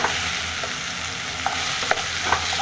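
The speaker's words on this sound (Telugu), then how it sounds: "బీరకాయలు వేస్తున్నాను. ఇవి బాగా నూనెలో వేయించాల." Ridge gourd pieces fry in hot oil in a pan for a birakaya curry, giving a steady, close hiss of sizzling with a few soft stirring clinks, and no voices.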